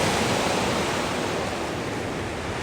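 Ocean waves breaking on the Scottish coast, a steady, loud roar of surf and rushing water filling the whole stretch with no pauses.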